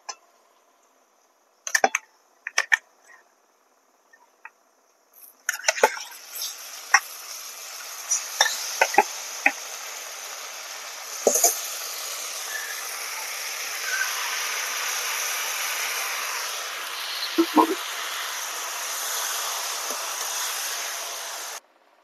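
Marinated chicken going into a hot pan with ground coriander and cumin, a steady sizzle and fry with a few utensil clinks and stirring scrapes, close and moderately loud.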